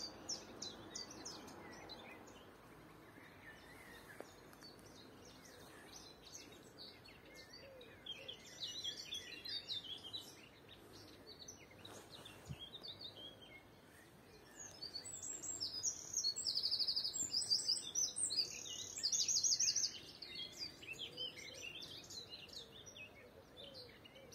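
Several birds chirp and sing in varied calls, faint and distant at first, growing clearer and busier toward the end over quiet outdoor ambience.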